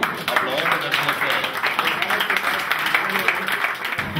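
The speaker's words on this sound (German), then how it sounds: "Applaus." An outdoor open-air concert crowd at a harbor festival claps and cheers steadily for a few seconds, a dense wash of applause with voices mingled in.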